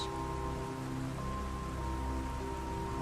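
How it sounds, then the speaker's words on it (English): Steady rain patters against library windows, a dense, even wash of drops with a low constant hum beneath, continuous and fairly close with no voices. "The rain has intensified, creating a steady rhythm against the library windows"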